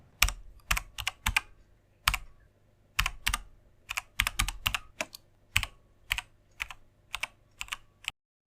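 Someone types a login ID and password on a computer keyboard. About twenty crisp, close keystrokes come in an irregular rhythm with short pauses between bursts, and no one speaks.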